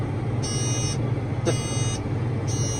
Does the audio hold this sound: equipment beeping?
yes